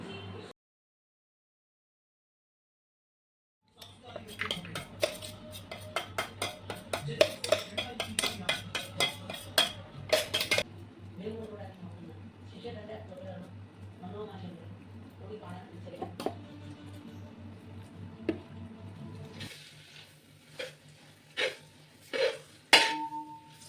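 A spoon stirs and sautés dates and fresh turmeric in homemade ghee in a pan, making repeated scraping clinks and metallic knocks, with a voice speaking at times over the cooking.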